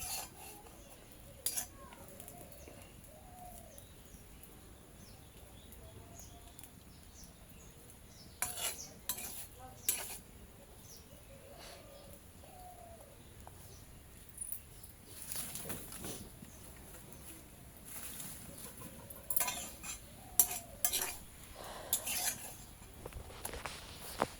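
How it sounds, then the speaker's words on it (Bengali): Meat pitha is cooked without oil in a small wok, with faint, intermittent stirring and scraping of a utensil against metal, soft clinks and bursts of rubbing spread across a quiet background. "তো পিঠাটা আমি এভাবে ভালো করে টেলে নিচ্ছি। এখানে আমি কোনো তেল ব্যবহার করছি না।"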